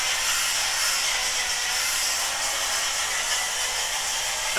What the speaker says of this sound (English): sweater shave.